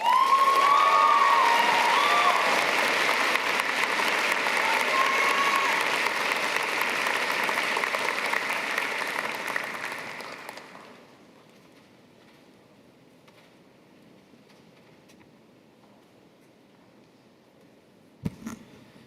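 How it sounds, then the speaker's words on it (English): A large audience at a Faculty of Mathematics graduation ceremony for the class of 2025 claps and cheers loudly for about ten seconds, then the hall falls nearly silent apart from a brief thump near the end. "Let's get another round of applause for Karen, your valedictorian"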